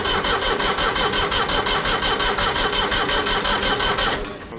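A rare old cabover semi truck, parked in the woods for twenty years, cranks on its starter in a loud, rapid, rhythmic chug that holds steady and then winds down without firing.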